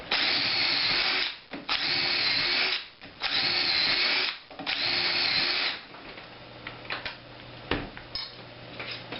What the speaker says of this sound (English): This is a 3/8 inch bit.